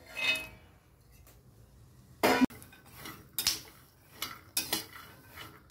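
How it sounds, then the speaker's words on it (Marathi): Peanuts dry-roasting in a pan on a gas stove, stirred with a metal spoon that gives a few sharp clinks and scrapes against the pan over a quiet background, with no talking. "हे बघ शेंगदाणे तर भाजत आले, छान खरपूस भाजायचे."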